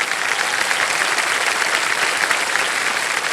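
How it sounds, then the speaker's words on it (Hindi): Studio audience of a televised Hindi quiz show, Kaun Banega Crorepati, bursting into sustained applause, a dense steady clapping that fills the room at even loudness with no talk over it. "ताली बज जाए इनके लिए।"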